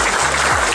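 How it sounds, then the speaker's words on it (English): Thunderous audience applause fills a large hall, a dense, loud wash of clapping heard close and continuous for a brief moment. "I want Kevin to walk back into the thunderous applause he deserves."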